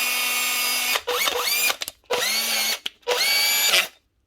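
A Panasonic cordless drill runs freshly fitted with new Makita brushes, whirring loudly in four short bursts separated by brief stops as the trigger is released and squeezed again, with no talking.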